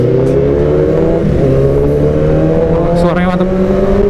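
A Yamaha R6 motorcycle engine drones loudly and close, its pitch rising and falling through revs with a steady, continuous roar.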